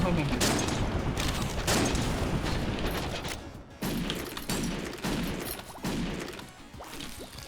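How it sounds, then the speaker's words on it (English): Howitzer shots fire in a video game as heavy, booming blasts in a dense, continuous barrage, loud and close, while a voice talks over them. "Those howitzer shots are a little hazardous to my own"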